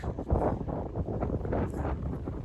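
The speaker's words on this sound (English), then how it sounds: "Oh, it's so windy." Strong wind on New Zealand's Northland coast buffets the microphone in loud, rumbling gusts that roar continuously.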